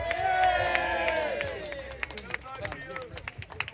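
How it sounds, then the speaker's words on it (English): At a Digital ID protest on Downing Street in London, a crowd claps and cheers outdoors, the claps scattered and fairly distant, mixed with voices and shouts over several seconds. "Come on, give him another round of applause."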